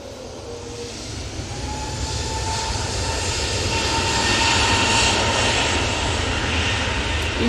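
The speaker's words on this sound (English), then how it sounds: "A320neo, off to Funchal" Airbus A320neo jet airliner at Manchester Airport, its engine roar steady and broadband, swelling slightly louder toward the middle and holding near, with a faint tonal whine running through.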